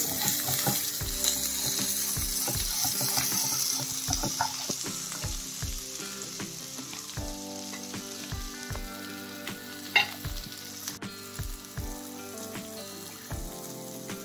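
Curry leaves, green chillies, carrot, beans and potato frying for masala upma, a steady soft sizzle broken by repeated metallic clicks of a spoon against the pan.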